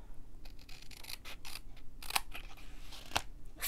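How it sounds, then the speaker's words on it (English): Scissors snip through paper during a paper-craft project, making several sharp, crisp cuts spaced irregularly with quiet rustling between them, close and fairly soft, no voices. "you could just hold it like that and take your scissors"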